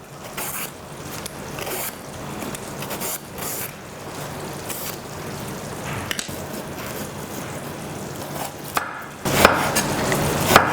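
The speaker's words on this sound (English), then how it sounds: "Cut into half moon slices on the diagonal" A knife slices a spongy gourd into diagonal half-moon pieces on a board, making close, steady chopping and soft squishy cuts in a continuous rhythm, with a louder burst of cutting toward the end.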